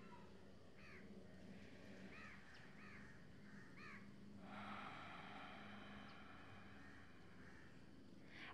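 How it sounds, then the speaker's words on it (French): Birdsong and crow-like caws in a calm outdoor nature setting, with a steady wind-like hiss that could be breeze through palm leaves; several short calls repeat at a moderate distance over a constant soft background. "Une position qui va se faire accompagnée des doux bruits de la nature, des oiseaux, peut-être du vent dans les feuilles"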